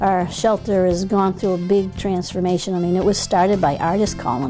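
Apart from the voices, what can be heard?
No distinct noise like a dog, phone or traffic.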